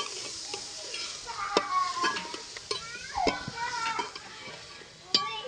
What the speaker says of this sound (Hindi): फिर हल्दी, मिर्च, धनिया, नमक डाल के इसे थोड़ी देर और भून लेंगे।